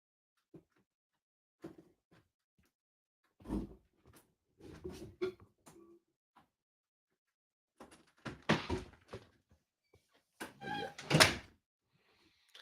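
Someone tries a locked interior door, with several separate rattles, thunks and knob clicks spaced apart, close by and fairly quiet in an otherwise silent room.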